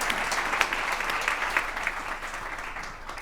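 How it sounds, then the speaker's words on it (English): Steady applause from a conference audience, a dense wash of clapping that holds evenly throughout and fades slightly toward the end, with no voices. "So can I have one final round of applause?"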